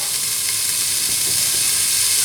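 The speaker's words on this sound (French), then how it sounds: "je vais commencer dans un premier temps par revenir les oignons et l'ail avec la viande pour bien les risoler" Onions, garlic and veal pieces sizzle steadily as they brown in a pan for an artichoke tagine, a dense, even crackling hiss close up and without pause.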